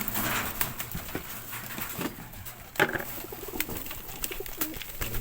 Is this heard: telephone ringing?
no